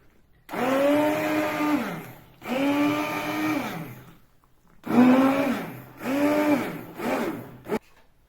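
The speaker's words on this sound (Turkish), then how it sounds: "Şimdi blenderdan geçiriyoruz." A blender purees cooked soup in several bursts, each a loud whirring drone that rises and dips in pitch, separated by short pauses.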